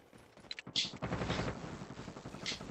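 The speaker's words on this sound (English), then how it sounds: "That's a bot shooting Simon." Bursts of gunfire from a bot in a video game battle royale match, a few sharp cracks early on followed by steadier rattling shots at moderate loudness, with no voices over it.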